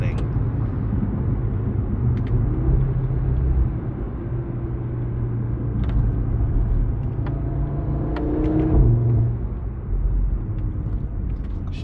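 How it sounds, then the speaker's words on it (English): A 2017 Audi RS3 8V2 with a 400 hp five-cylinder engine and S tronic gearbox drives, heard from inside as a low, steady engine drone and road rumble that swells and eases briefly. "that 5-cylinder motor is just to die for."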